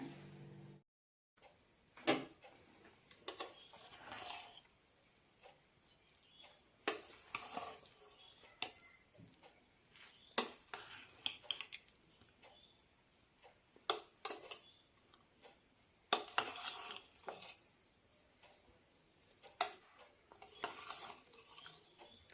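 Spoon scraping and clanking against a metal pot as Ambur kuska rice is mixed, irregular soft scrapes and knocks spread out with quiet gaps, fairly faint and close.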